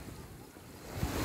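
Sea waves wash onto a beach at night, a soft, low rolling rush with wind noise on the microphone and a louder surge near the end.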